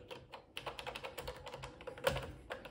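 Keys clack on a Tesla PMD 85-2A computer keyboard with many stuck keys, a run of quick, uneven taps and clicks close up, one sharper hit near the end, with no voices.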